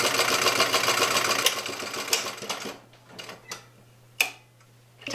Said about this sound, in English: Now I'm sewing the zipper panel onto the really long strip of fabric with the right sides together.